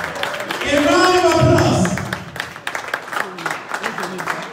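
Audience applause at a Chicago political fundraiser for Omoyele Sowore of the AAC, a dense crowd clapping that swells in after a voice and carries on steadily to the end.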